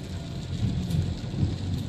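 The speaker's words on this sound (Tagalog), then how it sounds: "Kagabi pa ulan hanggang ngayon." Steady, dense rain pours down in Metro Manila during Typhoon Aghon under Signal No. 1, forming an even wash of noise with a low rumble beneath it and no voices.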